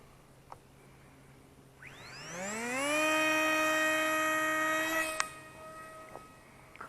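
A brushless-converted Flybear FX-820 SU-35 RC glider with a 290 mm wingspan launches as its electric motor spools up in a rising whine, then holds a loud steady buzzing tone for a couple of seconds before cutting out.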